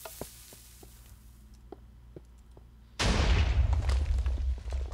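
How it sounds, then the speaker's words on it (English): A TNT cannon fires in a video game, with a few soft clicks and taps before a sudden loud, broad explosion that blasts out and then rumbles on without fading. "we will press this button and make sure it doesn't actually blow up the cannon"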